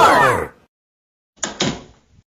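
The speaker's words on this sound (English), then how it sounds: "Close the door!" After a brief sound at the start, a door is pushed shut with two quick close knocks, a thud and a following bump, then silence.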